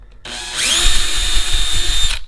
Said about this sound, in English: just to get a pilot hole started for the truss head screw